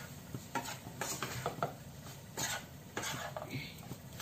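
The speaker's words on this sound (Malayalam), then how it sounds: "നമുക്ക് നന്നായിട്ടൊന്ന് മിക്സ് ചെയ്തെടുക്കാം" Lemon rind pickle mixture is stirred in a pan, with repeated scraping strokes and clinks of a spoon against metal in an irregular rhythm, close and moderately loud, over a faint sizzle.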